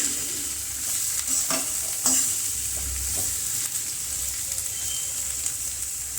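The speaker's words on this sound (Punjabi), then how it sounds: "ਪਿਆਜ਼ ਪਾ ਕੇ ਆਪਾਂ ਤੜਕੇ ਦੇ ਵਿੱਚ ਮਿਕਸ ਕਰ ਦਵਾਂਗੇ" Onions frying in a tadka with browned ginger and garlic for dhaba-style paneer bhurji: a continuous bright sizzle with a few clacks and scrapes of a spoon stirring the pan early on, close and steady. No talk.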